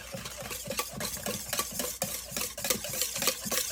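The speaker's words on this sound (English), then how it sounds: "And whisk it into them until the mixture turns pink." Raspberry cake batter, bound for a white chocolate raspberry mousse cake, is whisked briskly in a bowl: quick, regular scraping strokes repeat close by at an even rhythm, with no talking.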